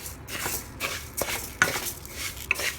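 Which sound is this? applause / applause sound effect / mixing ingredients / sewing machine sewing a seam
mixing ingredients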